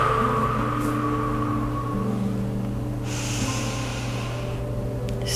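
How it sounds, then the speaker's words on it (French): Slow exhalations blown out through the mouth during a gentle morning stretching routine, breathy hisses of air over a low steady background hum. "Soufflez par la bouche."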